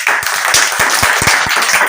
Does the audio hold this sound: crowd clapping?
yes